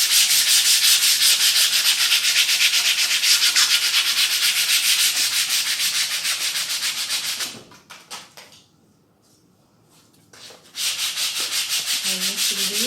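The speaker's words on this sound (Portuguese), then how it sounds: "A gente lixa bastante." Hand sanding of a wooden crate with sandpaper, a steady rapid scratchy rubbing that runs loud and continuous, drops away into near silence for a few seconds, then resumes just as strongly.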